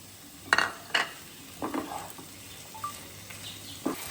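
Small fish being stirred into a pan of cooking potatoes and eggplant for a Bengali chochori, a few sharp spatula scrapes against the pan over a faint, quiet background sizzle.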